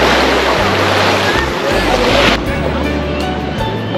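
Loud, continuous wash of sea waves breaking at Blue Flag Beach in Puri, a broad surf roar with strong wind buffeting and low rumbles across the whole stretch.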